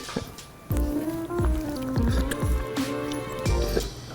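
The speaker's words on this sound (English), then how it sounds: "Today, I'm gonna try drinking from a dog bowl for the first time." A person laps water from a dog bowl, producing a series of wet, splashy slurps at an uneven rhythm, close and fairly loud.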